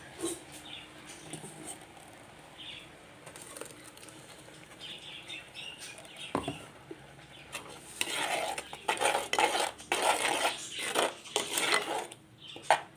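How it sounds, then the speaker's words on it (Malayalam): Ground paste poured into a pot of cooking loobikka, with faint wet sounds first, then louder clattering and scraping of a utensil against the pot in irregular bursts toward the end. "ഇനി ഇതിലേക്ക് നമ്മൾ അരച്ചോണ്ട് വന്ന് അരപ്പൊഴിച്ചു കൊടുക്കുക"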